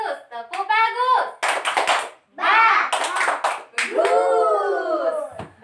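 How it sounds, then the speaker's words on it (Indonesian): Schoolchildren in a second-grade primary classroom do a short rhythmic praise clap together in bursts. The clapping mixes with a teacher's voice and the children's chanted voices. "Kita kasih tepuk bagus"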